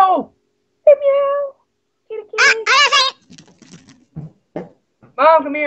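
A cat meows several times in short, clear, close bursts, with a voice and other people talking in between.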